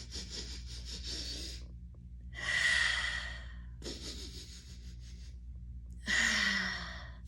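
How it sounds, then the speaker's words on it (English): A storyteller sniffs at a stone, giving four long breathy inhalations in a steady rhythm, close and fairly loud with short pauses between them and no talking. "he began to sniff the stone"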